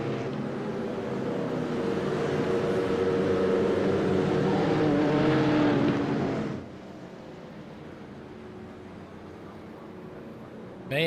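LMP2 sports prototype race cars accelerating away at the green flag at Long Beach, a loud, broad engine roar that swells and then cuts down abruptly to a quieter, steady background drone.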